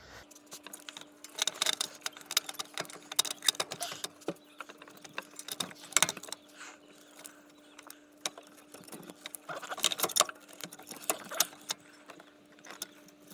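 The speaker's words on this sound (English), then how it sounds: "Now I'm going to go ahead and fish the alternator out of there." Metallic jangling and clanking as an alternator is worked out of a Mazda Miata NC engine bay, coming in irregular bursts of rattles and knocks, close and moderately loud against a quiet background with a faint steady hum.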